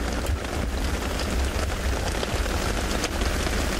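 Heavy rain pelting down steadily outdoors on a safari game drive, a dense, loud, even hiss of drops with no voices.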